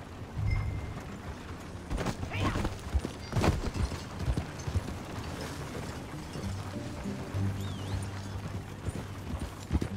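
Horse hooves clip-clop steadily while riding in Red Dead Redemption 2, a continuous mid-distance gait under faint ambient sounds, with a few louder thuds along the way.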